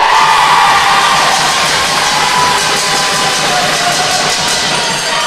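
A loud arena crowd roars and cheers continuously after a goal at an Isle of Man versus Republic of Ireland netball match, a dense wall of voices with no clear talk.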